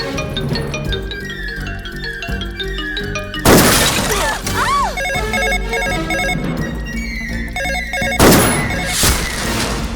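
A telephone rings in a Hindi-dubbed Telugu comedy film scene, a repeated electronic ringtone running under music and sound effects, broken by two loud crashing swells.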